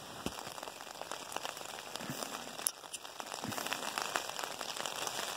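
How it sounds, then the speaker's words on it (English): Steady rain pattering outdoors in Alaska, with gusts of wind and scattered crackling drops, continuous and moderately close throughout. "it's pretty much just been raining and windy since about 3 or 4 in the morning"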